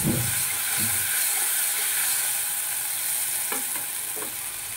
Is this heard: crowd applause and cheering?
no